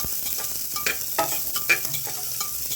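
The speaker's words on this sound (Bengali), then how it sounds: "সব হালকা হালকা ভাজতে হবে। তো এর মধ্যে পেঁয়াজ কিন্তু একদম হালকা ভাজা" Onions and vegetables fry lightly in a pan for a chicken stew, a soft sizzle under scattered scraping and clinking stirring strokes, close and moderately quiet.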